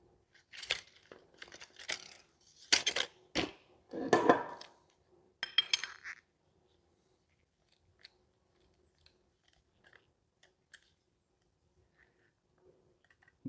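A copper pipe cutter is worked back and forth around a copper pipe, giving several short, close, crunchy scraping bursts over the first six seconds, then near silence with a few faint ticks.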